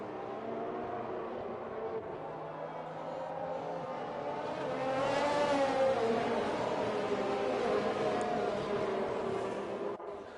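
Race cars hum along behind the safety car during a racing round in Japan, a steady engine drone that swells and fades as cars pass at moderate distance.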